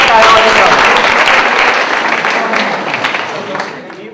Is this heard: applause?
yes